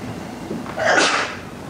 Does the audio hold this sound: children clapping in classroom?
no